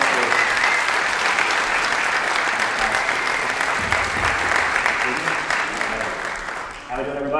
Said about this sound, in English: just give him a warm, loud applause here